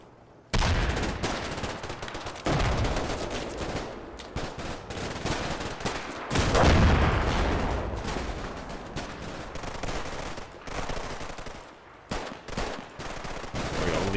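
Sustained machine-gun fire and battle noise from a German defensive position in the wargame Combat Mission: Red Thunder, with long loud bursts that swell and fade over distant rumbling.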